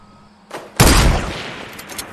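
Video game gunfire bursts out in a sudden loud volley, preceded by a fainter shot, then trails off into a sustained rattling roar with scattered distant pops.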